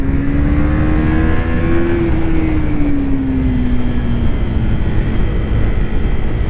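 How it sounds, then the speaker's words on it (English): A loud, buzzing single-cylinder engine of a 2022 KTM RC 390 motorcycle revs hard and holds a high, strained drone, its pitch climbing slightly, then sagging gradually as it eases off. "the motor might be a single, but you can scream it"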